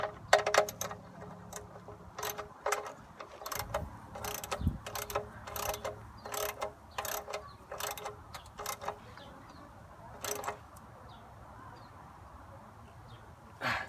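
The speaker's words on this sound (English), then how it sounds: "you're gonna want to use a smaller ratchet" Small hand ratchet tightening the oil drain plug on a Nissan 240SX during an oil change: a long run of sharp, evenly spaced clicks up close, with a few pauses and no talking.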